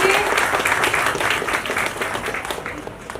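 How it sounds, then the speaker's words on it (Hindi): An audience applauds warmly to welcome a guest at an anti-drug community event in Goregaon, a dense, sustained burst of many hands clapping close by that tapers slightly toward the end. "समीर सर के लिए इतनी तेज तालियों से उनका स्वागत कीजिए"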